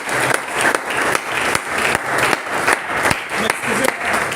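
A church congregation applauds in praise of God, a steady wash of many hands clapping at close range, dense and sustained with small rhythmic surges and scattered louder claps.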